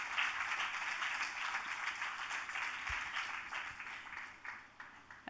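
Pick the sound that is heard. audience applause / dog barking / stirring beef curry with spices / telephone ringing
audience applause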